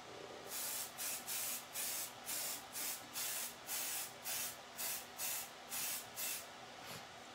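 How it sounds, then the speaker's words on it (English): An aerosol spray can of pixie spray hisses in a regular series of about twelve short bursts, each roughly a third of a second long, with brief pauses between them and no talk. "I'm actually gonna spray it off camera because I don't want it to come up into my camera"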